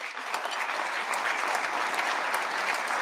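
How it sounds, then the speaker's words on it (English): Sustained audience applause at a state-of-the-state address, a dense even wash of many hands clapping steadily throughout with no voices over it. "Applause"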